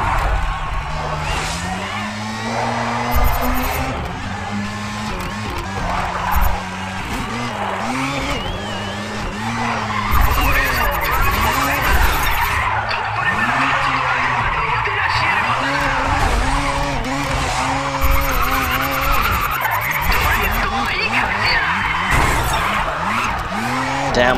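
Tires screech and skid continuously as a car drifts in the Grid racing video game, with a loud, steady engine drone and wavering squeal throughout, while a player talks over it.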